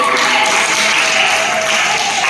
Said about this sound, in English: Please give a thunder round of applause for Simran Karthik